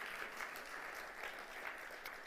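A church congregation applauding during a sermon, steady soft clapping from many hands throughout, somewhat distant and even, no speech over it.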